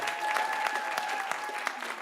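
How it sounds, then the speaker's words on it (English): Applause from a small audience at a school jazz video conference, greeting a student's question. The clapping is light and steady, with a few sharper individual claps over a faint background tone. "Let's give her a big round of applause"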